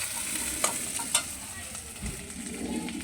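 Chopped tomato is stir-fried with onion, ginger and chilli paste for a mushroom curry, giving a close sizzle with a few sharp spatula knocks and scraping stirs.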